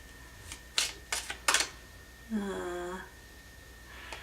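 Tarot cards are drawn from the deck with a handful of quiet, sharp flicks and taps in quick succession. A brief murmured voice sounds between them in a quiet room.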